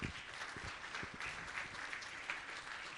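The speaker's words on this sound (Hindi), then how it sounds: "आपकी तालियां लगातार बजती रहें।" An audience at a Jain religious gathering applauds to honour trustees, a continuous patter of many hands clapping, fairly faint and distant, holding steady for the whole stretch with no speech over it.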